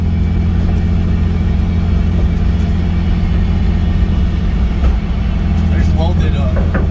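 Loud, steady drivetrain and road rumble inside a BMW E46 drift project car fitted with solid differential bushings, the differential drone running continuously throughout while people talk over it.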